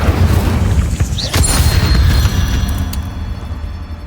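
Incendio fire spell explosion in a Harry Potter video game, a loud booming blast with crackling bursts that fades over a few seconds.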